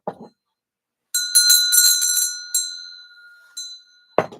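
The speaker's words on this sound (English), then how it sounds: "let me ring the bell" A hand bell rung in a few bursts, bright ringing tones with lingering metallic overtones, separated by short pauses, with brief murmurs at the start and end.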